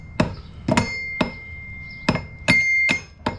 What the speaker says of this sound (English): And then I always take a hammer and